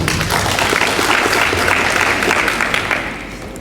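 Applause fills a hall at a university semifinal event, a dense, loud wash of many hands clapping that holds steady before easing slightly at the end.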